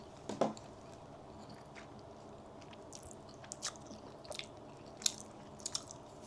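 Quiet chewing on grilled eel, soft moist bites and a few small crisp clicks spaced irregularly over a hushed indoor room.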